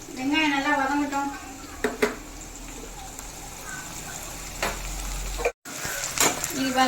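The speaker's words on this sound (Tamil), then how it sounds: "வெங்காயம் நல்லா வதங்கட்டும்." Onions sauté in a pan for a South Indian fish curry, a low, steady sizzle under someone talking, with a few clinks of a utensil against the pan.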